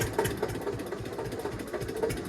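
A tractor engine chugs with a steady, rhythmic low thumping, close and fairly loud, idling or moving slowly through narrow village lanes.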